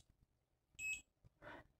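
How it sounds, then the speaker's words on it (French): Electronic beep from a ceiling fan's control board as mains power is switched on: a short, clear tonal bleep, a brief pause, then a second burst, alone in a quiet room. "On a entendu un bip."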